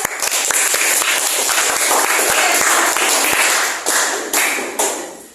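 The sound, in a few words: applause for a group presentation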